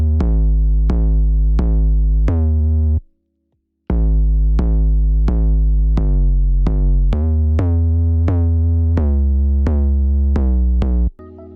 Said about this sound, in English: So this is the bass line I came up with.